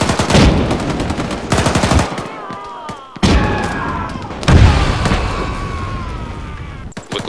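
Battle gunfire pounds close and loud, with rapid machine-gun bursts and heavy thuds in clusters separated by short lulls, and a brief trailing whine.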